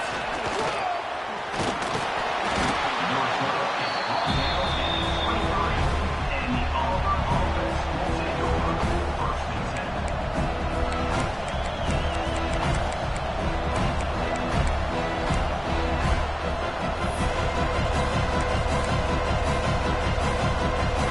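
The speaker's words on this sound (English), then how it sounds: "This crowd ready to make its presence known." A stadium crowd at an American football game roars in a steady, dense wall of noise throughout, loud and sustained, with a commentator talking over it.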